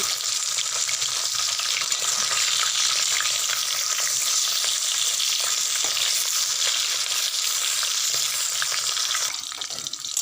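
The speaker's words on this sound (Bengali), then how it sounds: "একদিকটা ভাজা হয়ে গেছে, এবার আমি অন্য দিকটা ভালোভাবে ভাজার জন্য উল্টে দিচ্ছি।" Hilsa fish pieces fry in hot oil in a pan, a continuous, loud, crackling sizzle holding steady for about ten seconds with a faint clatter as they are turned.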